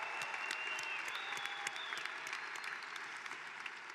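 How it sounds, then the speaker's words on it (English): A round of applause for graduates at a spring commencement ceremony, a broad crowd clapping that is fairly distant and sustained, tapering slightly toward the end. "can we get another round of applause for all of these wonderful graduates?"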